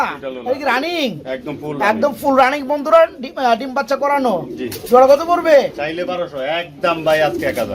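Indian Kakji king pigeons coo repeatedly in soft, rolling bursts, close by, while a person talks over them.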